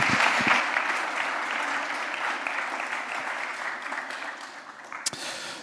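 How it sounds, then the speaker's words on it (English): A church congregation claps during a Sunday morning service, a dense round of applause that starts strong and gradually tapers off over several seconds, with a few louder claps near the end. "Give them a round of applause."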